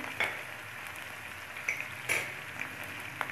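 Tomato and green chilies are frying with browned garlic and onion in a pan, giving a soft continuous sizzle punctuated by a few sharp crackles and clinks, with no talking.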